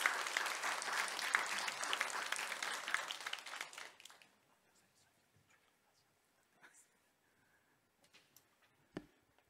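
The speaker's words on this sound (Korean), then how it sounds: "선교사님 나오실 때 박수로 모시겠습니다." Church congregation in a Korean holiness church applauds to welcome a missionary, dense sustained clapping for about four seconds that tapers off abruptly into a quiet room with faint scattered sounds.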